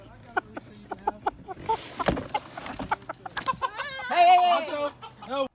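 A rooster clucks in a run of short, sharp calls, then lets out longer squawking cries toward the end, fairly close and moderately loud over a quiet room hum.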